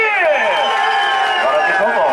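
Partygoers at a father's birthday celebration in São Paulo cheer and clap for the guest of honour, a dense, loud wash of overlapping voices and shouts with applause running steadily throughout.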